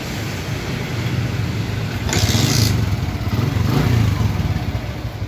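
A 2005 Toyota Vios engine turns over and runs with a steady mid-pitched drone, swelling twice into louder revs with a brief clattery rise; no talking.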